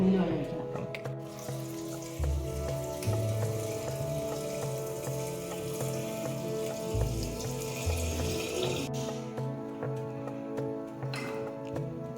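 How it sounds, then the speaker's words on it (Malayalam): Water trickles and splashes steadily onto tamarind in a container for several seconds while a person talks quietly nearby. "പുളിയിൽ വെള്ളം ഒഴിക്കാൻ പോകാം"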